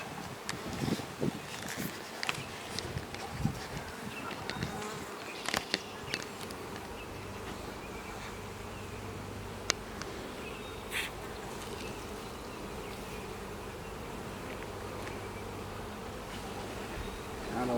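Honey bees buzz around a hive, with one bee's drone swelling loudly as it passes close amid a steady hum of many others, and no one speaks.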